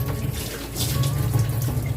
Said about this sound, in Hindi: मैं यहाँ पे अपने कटहल को अच्छे से वॉश कर रही हूँ, मोटर के पानी से